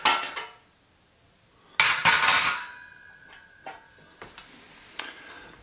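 A small metal grilling rack from a secret agent briefcase kit being folded open: sharp metallic clicks and clinks, a clattering burst with a brief ringing tone, then scattered lighter taps, close and without talk.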